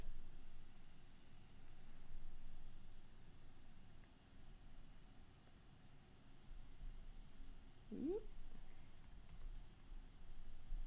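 Faint keystrokes on a computer keyboard as a command is typed, soft scattered clicks buried in a steady background hiss with no one speaking.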